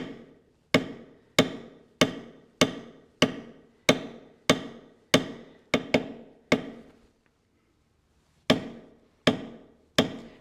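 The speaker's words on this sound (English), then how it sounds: "I'll do every bevel going this way across it, then I'll rotate it a 1/4 turn, I'll do every bevel going again" A mallet strikes a leather beveler while a basket weave pattern is set into tooled leather for a journal cover: about a dozen sharp, evenly spaced knocks, then a brief pause, then a few more strikes, close and alone.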